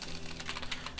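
A command is typed into a terminal on a computer keyboard, a quick close run of light key clicks for about a second with no voices.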